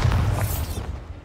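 A Bombarda blasting spell bursts in the Hogwarts Legacy video game, a single loud, close explosion with a heavy low rumble that fades over about a second.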